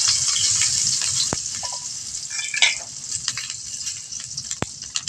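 Cardamom, cloves, whole green chillies, fenugreek and cumin frying in hot oil: a close, crackling sizzle with a few sharp pops and stirring clicks, no talking.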